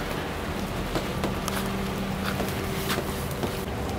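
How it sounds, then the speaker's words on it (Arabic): Steady rain falls outdoors at night, a continuous hiss of drops on surfaces with faint scattered patters, heard alone without talk. "فلا تدقون على الماي لان مطر عندنا"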